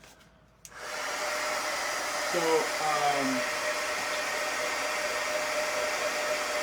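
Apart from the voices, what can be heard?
hair dryer drying painted shoes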